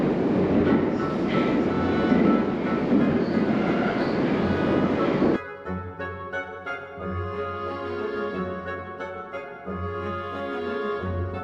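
An Almaty metro train heard from inside a carriage: a loud, dense roar of wheels and motor at speed that suddenly drops to quieter rumbling with a steady electric whine and rhythmic clicks as the train slows.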